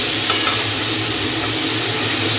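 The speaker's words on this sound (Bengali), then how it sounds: "মিশিয়ে দেবো ভালো করে, কষে নেবো একসঙ্গে সব কিছু।" Chopped vegetables are stirred and sautéed without oil in a pan while cooking dalia, giving a steady close sizzle with a couple of soft scraping stirs.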